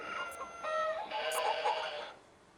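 Toy farm with electronic animal sounds plays a rooster crowing and chickens clucking, a tinny, bright burst lasting about two seconds, close and fairly loud with no talking over it.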